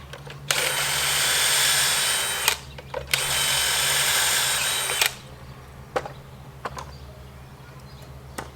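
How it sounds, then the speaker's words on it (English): A power drill drives screws through a Kreg pocket-hole jig while building wooden raised garden beds, two sustained close whirring bursts of a couple of seconds each, followed by quieter clicks and handling knocks. "it takes a long time to drill all those holes"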